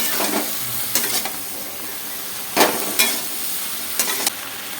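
Water poured into a hot pan of cooking vegetables and ginger, giving a continuous loud sizzle and hiss with a few sharper bursts and stirring scrapes throughout.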